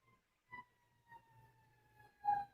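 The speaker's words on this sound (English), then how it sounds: "Sorry if you hear sirens in the background." A fire truck siren sounds faintly in the distance as a steady, thin wailing tone, with a few soft thumps nearby.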